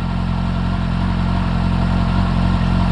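A motorcycle engine fitted with a Campagna T-Rex slip-on exhaust holds a steady, loud, close rumble at idle or a constant high rev, without pauses or talk.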